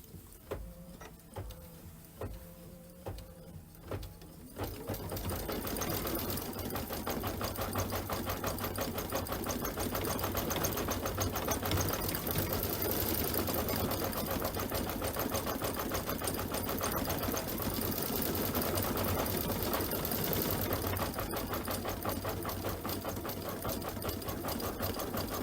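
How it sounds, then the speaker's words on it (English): An embroidery sewing machine runs nonstop for about twenty seconds, stitching in a fast, steady mechanical chatter after a few soft clicks and knocks at the start; no talk. "In this case, I'm just going to stitch."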